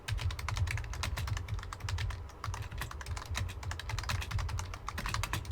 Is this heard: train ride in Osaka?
no